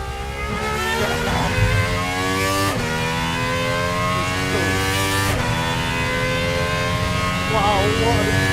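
A Gordon Murray GMA T.50s V12 accelerates hard, its high-pitched engine note climbing steadily through the gears with brief dips at each shift, loud and close from inside the car, with people talking over it.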